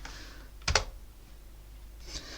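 A few quick keystrokes typing a Linux terminal command on a computer keyboard, a short double clatter of clicks followed by a fainter tap in a quiet room.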